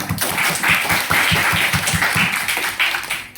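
Clapping from a classroom group of students, a dense patter of hand claps with a low rhythmic thumping under it, steady and fairly loud for a few seconds.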